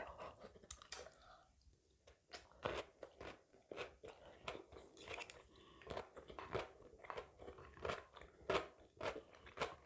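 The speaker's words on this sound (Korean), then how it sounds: "오이지가 아삭아삭하니 맛있네요." Crunchy Korean pickled cucumber (oiji) chewed up close at a home-cooked Korean meal, with sharp, crisp crunches repeating in a steady chewing rhythm throughout.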